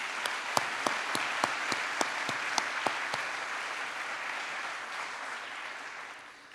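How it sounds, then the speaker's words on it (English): Applause at a 2021 staff convocation: a dense, steady patter of many clapping hands with a few sharp, distinct claps early on, gradually tapering off toward the end. "We have one round of applause for everyone, please."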